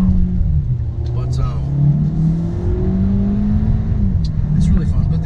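A 2020 Kia Soul GT with a 1.6-litre turbo engine and 7-speed dual-clutch gearbox drives along, its engine droning steadily with a rising and falling tone beneath someone talking throughout.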